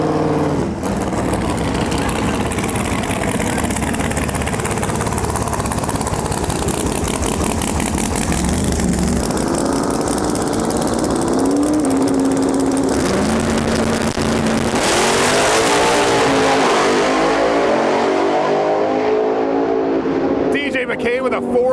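A Corvette making a drag racing pass at a Lights Out 16 qualifying round, its engine loud and continuous, revving up through rising gear pulls before backing off near the end, with crowd and track noise around it.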